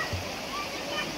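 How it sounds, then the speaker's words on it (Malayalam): Flowing water of a small stream at Ariyoor Thod, a steady close rushing and burbling wash that fills the whole moment without pause. "ഒരു ഇൻസ്ട്രുമെൻറ്റും തന്നെ നൽകാൻ കഴിയാത്ത ആ വെള്ളത്തിൻ്റെ നാദം ഭയങ്കര കാതുകളെ മനസ്സിനെ കുളിർമ നൽകുന്ന ആ ശബ്ദമാണ്"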